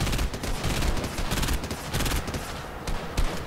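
Rapid bursts of automatic gunfire in the mobile game Fortnite Mobile, dense and loud shots crackling continuously with brief gaps between volleys.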